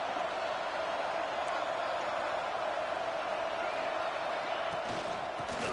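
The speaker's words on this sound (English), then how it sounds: "Listen to the crowd energy here in the early going." A college football video game stadium crowd keeps up a steady, dense roar of noise that stays even throughout, with an announcer's voice talking over it.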